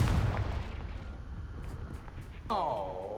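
Confringo fire spell in Hogwarts Legacy gameplay: a rumbling blast with a fiery roar that fades into a crackling tail, followed by a rising tonal magical whoosh near the end.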